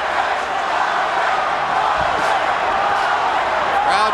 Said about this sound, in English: Crowd chanting for Vargas.